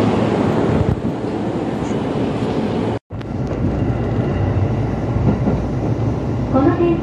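A train bound for Haranomachi rumbles steadily with broadband rail noise and wind, a brief dropout near the middle, then continuing rumble with faint squealing tones near the end.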